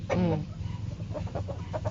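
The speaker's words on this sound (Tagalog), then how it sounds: "Inahin, tapos tandang." A hen and rooster cluck nearby in short, uneven bursts, one louder call at the start followed by softer scattered clucks.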